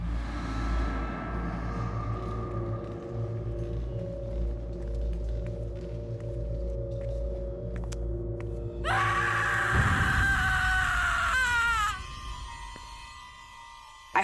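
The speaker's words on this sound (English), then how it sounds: "I heard a scream." A sudden high, wavering scream in a haunted hospital reenactment bursts in over a low droning score and rings for about three seconds before trailing off, loud and close, with no talk.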